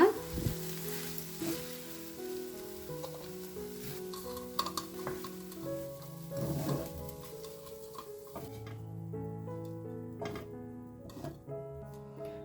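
Onions, capsicum and garlic fry in a pan, giving a continuous soft sizzle broken by intermittent clinks and scraping taps of a stirring utensil, with a low background hum and no talk.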